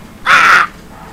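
A voice imitates a crow's caw: one loud, harsh, nasal call lasting about half a second, close to the mic and alone, set against quiet room background.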